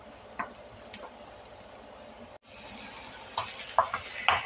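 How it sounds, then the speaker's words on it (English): Mushrooms sautéing in a pan for a caprese pasta bake, a faint steady sizzle with scattered stirring clicks and scrapes that grow busier toward the end, under the hum of a kitchen fan. "now I'm going to add my mushrooms. And I'm going to let those saute up"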